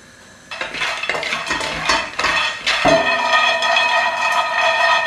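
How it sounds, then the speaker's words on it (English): Metal frying pan with cashew nuts dry-toasting without oil, rattling and scraping as the nuts clatter inside, several quick shakes followed by a steady sizzling clatter, close and fairly loud. "Just need to shake the pan with the cashew nuts in it now and again"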